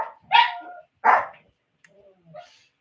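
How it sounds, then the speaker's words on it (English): Several dogs bark in short, loud bursts, two strong barks close by followed by quieter yips and whimpers, with a brief voice in the gaps. "Watch out, my dogs are barking."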